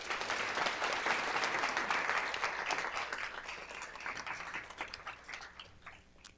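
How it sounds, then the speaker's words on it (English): Audience applause at a college of nursing summer pinning ceremony, a dense wash of many hands that swells, holds, then thins into scattered individual claps as it fades out. "Let's give a round of applause to these groups"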